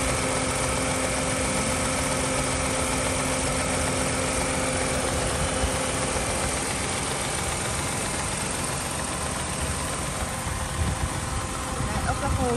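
A 2011 Kia Morning with an automatic gearbox and 1.0 engine idles steadily, a close, even mechanical hum with faint vibration and no voices throughout.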